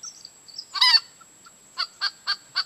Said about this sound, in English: but this is the real distress noise.